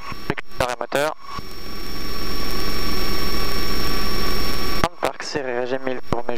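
A Robin DR400 light aircraft engine idles at full idle, about 1000 rpm, with a steady, even drone that swells slightly, with short bursts of talk before and after.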